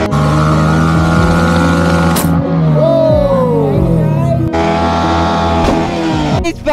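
Yamaha R15 motorcycle engine screaming at high revs during a burnout, pitch climbing and falling in sweeps, broken by sharp bursts as the tyre gives way, loud and close.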